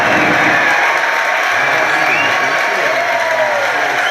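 A large crowd at a Falcon Heavy rocket launch cheers and roars loudly and continuously after booster separation, a dense wall of voices with whoops rising from the noise.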